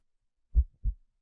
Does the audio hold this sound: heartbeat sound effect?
yes